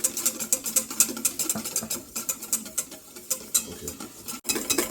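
A whisk beating egg sauce for eggs Benedict in a bowl, giving rapid, steady, close ticking and scraping strokes that keep a brisk even rhythm, with no talk.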